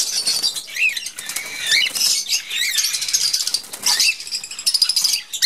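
A hand-tamed pet cockatiel flaps its wings close by in repeated quick bursts of fluttering, with brief pauses between flurries and a faint squeak or two.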